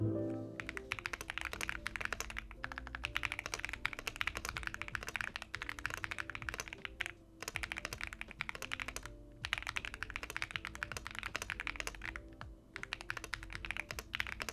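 Continuous fast typing on an AJAZZ AC100 full-size mechanical keyboard with pre-lubed Ice Cream Linear switches, crisp even clacks in quick bursts with a couple of short pauses, close and clear.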